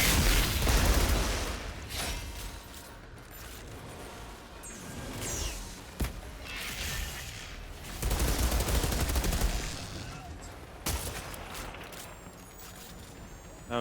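Sniper gunfire in the Outriders video game sounds as sharp, loud cracks and bursts of shots at irregular intervals over a dense, rumbling battle background, with no talk.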